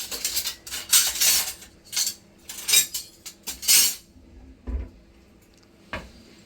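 Someone rummages through metal cutlery in a drawer, a quick series of close jangling clinks and rattles in bursts, followed by a couple of softer knocks as it settles.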